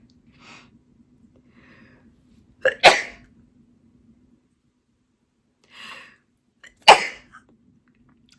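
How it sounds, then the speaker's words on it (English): Two sharp, loud sneezes burst out about four seconds apart, each preceded by a quick intake of breath, in an otherwise quiet room with a faint steady hum. "now I have to sneeze"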